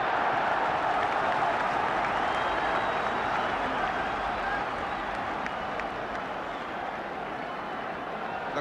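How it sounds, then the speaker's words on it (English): A large football crowd roars and applauds continuously for Wolves in a 1978 home match against Manchester United, a broad, distant-sounding wash of cheering. "The crowd giving Wolves the encouragement they need, perhaps scenting another revival."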